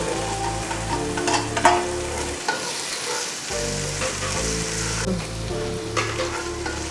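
Slit green chillies fry in a pan for Kerala-style chicken mappas, giving a loud, constant sizzle with stirring scrapes and a brief drop in the middle.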